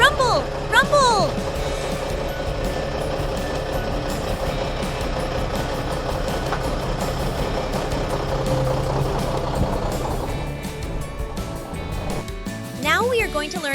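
A truck engine rumbles and idles steadily at close range, a low continuous drone with a brief whine near the end, while a voice talks over it.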